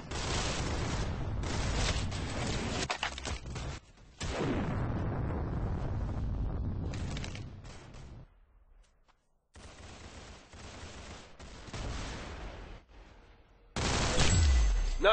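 Gunfire in a first-person shooter video game: loud bursts of shots and blasts in clustered volleys, broken by brief pauses and a near-silent gap, ending in a fresh heavy burst.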